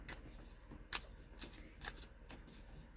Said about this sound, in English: I might be pulling some cards for clarifiers.